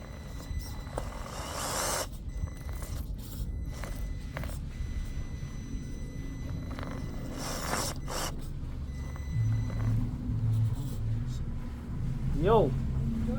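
A Traxxas TRX4-M RC crawler with brass steering knuckles and an Injora FJ40 Toyota body creeping over rocks, giving a low, steady mechanical whir with scattered clicks, scrapes and knocks from the small gears and tires.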